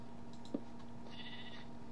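A sheep bleats faintly in Minecraft, a short, soft cry standing out briefly against quiet game ambience.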